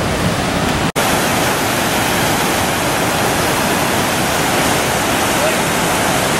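The 365-foot Bridal Veil Falls waterfall near Ouray, Colorado, heard from close by as a loud, continuous roar of falling water, broken only by a momentary dropout near the start.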